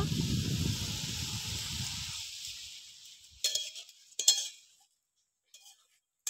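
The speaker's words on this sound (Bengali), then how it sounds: "শাকটা এইভাবে নাড়াচাড়া করে ভেজে নেব।" Korai shaak greens frying and being stirred in a pan, a steady sizzle fading over the first few seconds, then scattered scrapes and clinks of the utensil against the pan.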